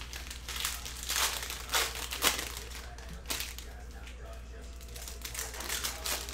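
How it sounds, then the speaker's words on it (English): A cellophane multi-pack of 2020-21 Panini Prizm basketball cards is torn open, giving close crinkling and ripping bursts of plastic wrap, loudest in the first half, with someone speaking at points. "rip up on this pack"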